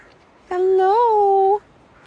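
A talking bird gives a single clear, tonal "hello" imitating a human voice, close and isolated, lasting about one second with a slight rise and fall in pitch.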